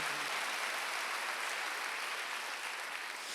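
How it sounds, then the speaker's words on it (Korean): A church congregation at a Sunday worship service claps steadily throughout, soft and somewhat distant, a dense even patter with no voices over it. "박수 하나 돌리시기 바랍니다"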